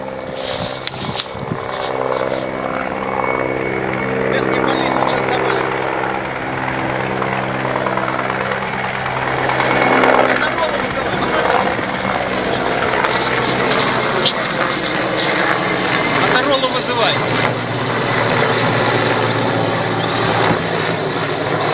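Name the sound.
Russian helicopter flying over Donetsk region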